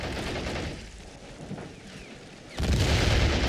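A tank shell lands and explodes in the World War II strategy game A World at War, a heavy sustained boom that erupts loudly near the end over softer battle rumble.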